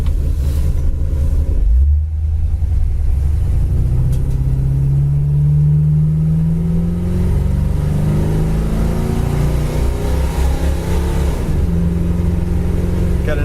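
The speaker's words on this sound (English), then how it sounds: "This 2-speed power glide transmission still pushes this car down the road beautifully." A 1963 Chevy Impala with a 2-speed Powerglide automatic transmission drives along the road, its engine rumbling loud and steady and rising in pitch as it accelerates and shifts.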